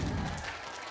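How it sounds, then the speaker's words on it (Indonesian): Applause from a crowd at a Maulid Nabi religious gathering, a brief dense wash of clapping heard alone and fairly steady. "Tepuk tangan ke ibu-ibu."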